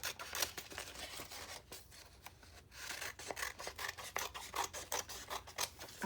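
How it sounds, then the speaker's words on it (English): Scissors cut paper, trimming the white edge off a page for a five-ring binder: a quiet, close series of rasping snips and rubs in an irregular rhythm, with no talking. "Let's cut it out first"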